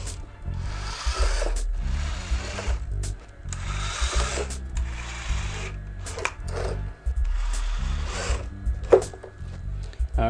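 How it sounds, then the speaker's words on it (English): A power drill with a 1/4 inch bit grinds through a wall panel in repeated bursts, its loud motor whine rising and falling with short pauses between cuts. "use the power drill with the 1/4 inch bit"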